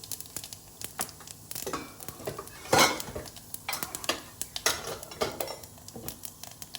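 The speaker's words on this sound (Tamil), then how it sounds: "இதில் இப்போ தாளிச்சிக்கலாம். கடுகு, உளுத்தம்பருப்பு, கடலைப்பருப்பு, கொஞ்சோண்டு ஜீரகம்," Mustard seeds, urad dal, chana dal and a little cumin are tempered in oil for Salem-style tomato sambar, with close spoon scrapes and metal clinks against the pan over a light crackling sizzle and no talking.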